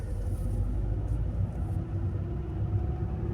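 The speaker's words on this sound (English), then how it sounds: "first you'll notice the engine trembling and the rough idling" A car engine misfiring on one cylinder idles roughly, giving a low, uneven, trembling rumble with slight pulsing, steady and fairly quiet up close with no talking.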